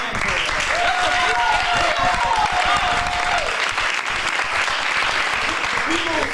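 An audience at an evening magic and murder-mystery show breaks into sustained applause, a dense roar of clapping that carries on throughout while a voice speaks over it.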